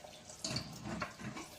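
A little water poured into a pan of ridge gourd fry, a brief close splashing trickle lasting about a second, alone and fairly faint.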